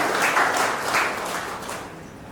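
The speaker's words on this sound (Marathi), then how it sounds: "आपल्या या 4ही लेखक आणि कवींचे आपण जोरदार टाळ्या वाजवून अभिनंदन करूया" Steady applause from an audience at a book launch, honouring authors and poets; many hands clap together in a dense, sustained burst that gently fades toward the end.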